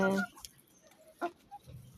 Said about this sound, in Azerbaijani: Mənim 6 dənə toyuğum var.